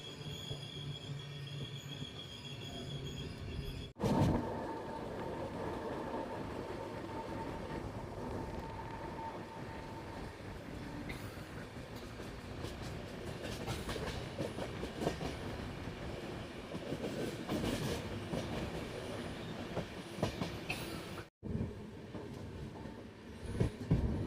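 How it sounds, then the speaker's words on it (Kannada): The Rani Chennamma Express rolls slowly on its rails as it enters Dharwad railway station, with continuous wheel rumble, squealing wheels and rhythmic clatter that stays steady and fairly loud, broken briefly by a sharp gap near the end. "ನಮ್ಮ ಟ್ರೈನ್ ಈಗ ಧಾರವಾಡ ರೈಲ್ವೆ ಸ್ಟೇಷನ್ಗೆ ಎಂಟ್ರಿ ಆಗ್ತಿದೆ, ಪ್ಲ್ಯಾಟ್ಫಾರ್ಮ್ ನಂಬರ್ 3ಕ್ಕೆ"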